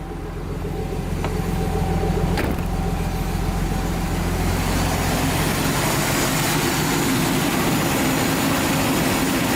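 A steady, loud engine note from an R32 Nissan Skyline running with its A/C compressor's magnetic clutch engaged and spinning, a constant low hum and broadband whir held evenly throughout with no talk.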